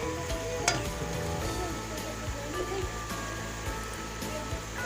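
Green chillies frying in masala for a cabbage and potato sabzi make a continuous soft sizzle and crackle, with a few light clinks of stirring.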